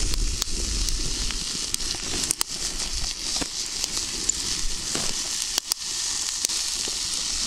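Butter and bacon frying in a pan give a steady, dense sizzle with crackles and sharp pops scattered throughout, close and continuous with no talking.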